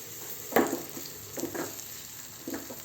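Sliced onions softening in a pan for a Maharashtrian veg thali give off a faint, steady sizzle, broken by three brief bursts of stirring and scraping nearby.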